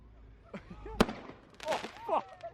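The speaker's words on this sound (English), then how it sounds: "It's like a firework war inside." Fireworks going off at a UK car meet: a sharp crack followed by a cluster of popping and whistling bursts nearby, with crowd voices and chatter mixed in underneath.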